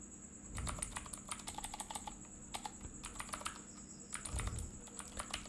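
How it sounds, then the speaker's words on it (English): Quick bursts of keystrokes on a computer keyboard as a domain name is typed, close and fairly quiet, arriving in uneven clusters with short pauses between them. "Just type the domain name that you want to get."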